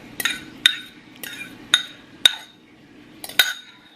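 A spoon clinks sharply against a bowl while beaten eggs are stirred into cornbread dressing: about seven close, bright taps at an uneven stirring rhythm, with soft wet scraping between them and no talking.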